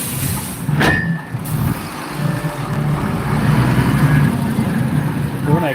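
Heavy road traffic with trucks in Lagos, a loud continuous rumble of engines close by, with a sharp hiss of air brakes near the start and a passing horn-like tone, voices faintly mixed in.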